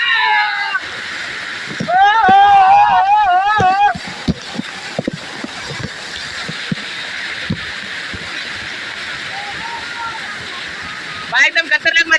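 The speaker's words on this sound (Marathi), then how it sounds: "धबधबा एकदम वरतून पडतोय ना." Water from a hidden monsoon waterfall at Kharghar rushes in a steady broad roar throughout, with scattered splashes, while excited voices shout and talk over it, especially near the start and end.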